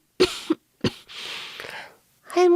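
An elderly grandmother coughs in a few sharp, close bursts, then gives a longer rasping exhale, followed by a voice starting to speak.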